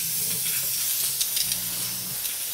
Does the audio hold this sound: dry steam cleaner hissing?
yes